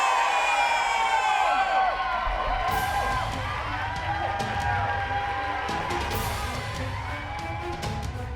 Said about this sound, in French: veuillez lui faire un tonnerre d'applaudissements et accueillons notre cher monsieur Nikhil